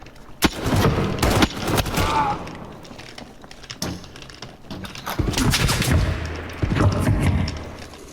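Gunfire in a video game shootout, dense bursts of loud close shots and booming impacts in clusters, separated by quieter gaps with lighter thuds, with players' voices talking over it at times.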